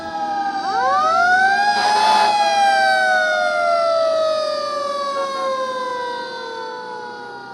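An emergency vehicle siren wails loud and close, sweeping up in pitch and then slowly gliding down in a long continuous tone, with no speech.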